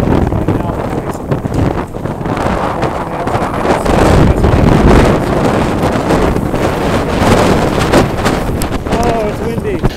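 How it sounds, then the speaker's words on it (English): Typhoon wind buffets a Hong Kong waterfront, roaring steadily and loudly across the microphone for the whole stretch, with a voice talking underneath the gusts. "Oh, it's windy."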